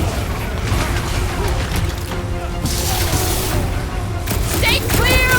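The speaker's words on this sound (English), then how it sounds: "Incoming explosion!" Explosions and combat in the Guardians of the Galaxy video game on PS5: booming blasts and crashing impacts amid layered game noise and music, with a loud, dense mix and character voices shouting over it.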